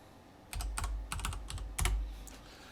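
A computer keyboard types a search entry in a short, quiet run of about a dozen crisp keystrokes over roughly two seconds, heard close and alone with no speech.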